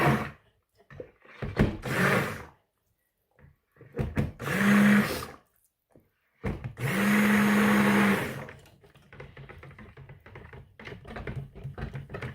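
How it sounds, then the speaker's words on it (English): A stick blender whirs through soap batter for an apple crisp soap made with colloidal oatmeal, in two short bursts of steady loud motor hum between quiet gaps and light clatter, with no talking. "I'm just going to give it a super quick hit with the stick blender."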